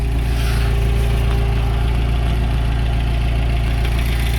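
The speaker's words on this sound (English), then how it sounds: "So if I go to reverse, we hear the gears engage," A 1992 Volvo 460 turbo with a ZF 4HP14 automatic gearbox idles steadily and close by, a constant low engine drone while the transmission is put into reverse; no distinct clunk of engagement stands out.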